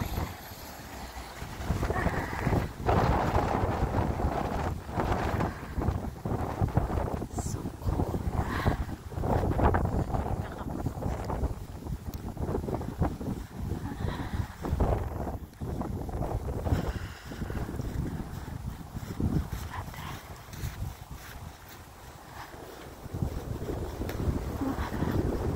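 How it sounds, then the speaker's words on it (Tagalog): Strong wind roars and buffets the microphone in continuous gusts, a loud low rumble with no one talking. "Grabe ang hangin."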